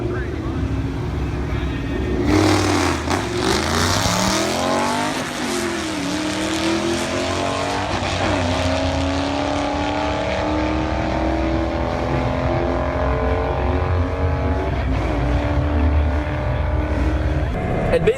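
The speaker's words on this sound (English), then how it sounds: "I raced it at the drag strip, which you guys will watch the video now" A 2014 Mustang GT 5.0 runs at a drag strip, its engine roaring and rising through repeated gear changes at full throttle, loud and sustained, with voices talking over it.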